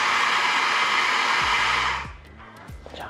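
A Mahlkonig E65S GBW coffee grinder grinding about 18.5 g of coffee by weight in under three seconds, a loud steady high-pitched whir that cuts off, leaving a quieter motor winding down with faint clicks.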